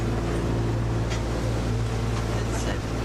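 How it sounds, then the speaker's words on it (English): A sailboat's engine drones steadily and loudly in a force 10 storm, mixed with wind and water noise, with a faint voice briefly audible. "can at least run the engine faster now"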